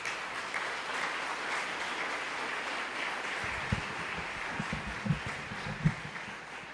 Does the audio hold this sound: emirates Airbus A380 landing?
no